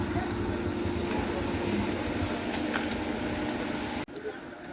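A train rumbles past on the Konkan Railway line, a continuous loud rolling roar with faint rhythmic clatter that cuts off abruptly near the end, leaving a quieter background.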